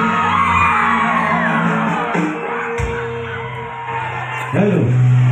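Crowd at a Bihu cultural evening cheering, whooping and yelling loudly, the roar dropping briefly mid-way, then swelling again with a sharp whoop near the end.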